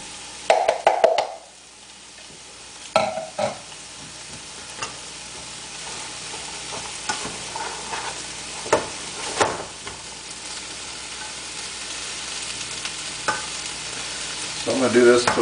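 Chopped onion sizzling in a pan for black bean chili while being stirred, a continuous frying hiss broken by scraping and clacking stirs at irregular intervals.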